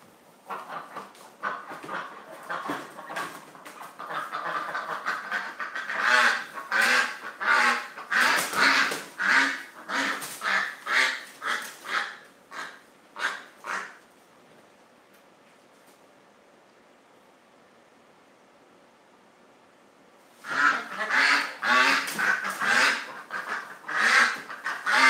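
Ducks quack loudly in rapid bursts, a noisy flock calling close by, then a quiet pause before another burst of quacking.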